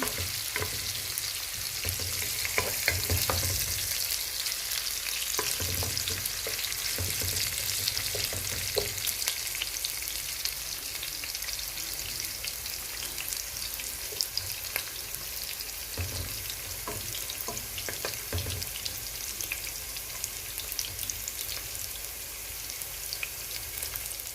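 Onions frying in a pot for pilau, a dense continuous crackling sizzle up close with occasional stirring clatter and spoon knocks scattered through it.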